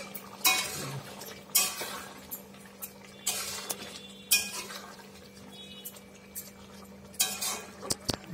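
Pieces of pointed gourd are dropped into a pan of potato curry, with sharp metallic clinks and scrapes of a spoon against the pan coming in short separate bursts over a steady low hum.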